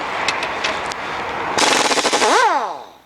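Pneumatic air impact gun hammering at a drive shaft bolt on a Ford Mondeo in a garage, a loud rapid rattling burst of about a second following other workshop noise, then winding down with a falling whine.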